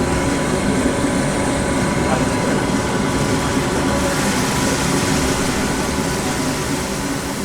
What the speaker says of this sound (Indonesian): Hal ini bertujuan untuk menyerap panas pada green bean yang baru matang langsung ke dalam mesin pembuangan di belakang.